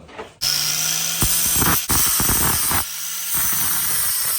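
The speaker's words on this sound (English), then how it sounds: "I'm just gonna take the flap disc and I'm gonna cut the flange off." An angle grinder with a flap disc cuts the flange off a bolt head, a loud close high whine broken by grinding bursts as the disc bites into the metal, with a brief pause midway.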